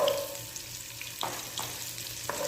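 Ginger sizzles in a hot pan as the first step of beef adobo, a steady close frying hiss broken by a few clinks and scrapes of stirring.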